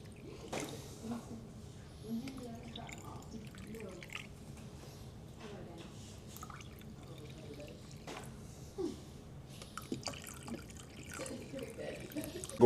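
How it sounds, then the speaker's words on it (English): Vinegar poured into jars of quail eggs, soft trickles and drips in short bursts, fairly quiet, with faint talking in the background. "we are going to top our jars off with some vinegar"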